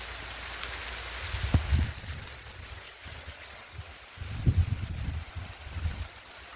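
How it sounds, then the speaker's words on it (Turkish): Rain falling in a village, a soft continuous hiss with low, gusty rumbles swelling and fading, likely wind or handling noise, and no talking. "şu an baya güzel yağıyor."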